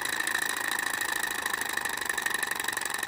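A small running steam or Stirling engine produces a steady, fast mechanical rattle with an even whirring hum, close and moderately quiet, continuous for the whole stretch with no one talking.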